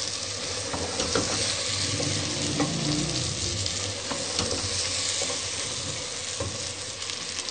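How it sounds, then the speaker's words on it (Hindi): Chicken pieces fry in a pan for a chicken shorba curry, a dense, continuous loud sizzle with occasional stirring scrapes and clicks throughout. "तीन से 4 मिनट भूनने के बाद हम ब्लैक पेपर डालेंगे।"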